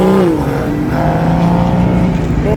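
A loud car engine drives past at a car show, with a steady harmonic engine note that rises and shifts in pitch as the car goes by, close and continuous throughout.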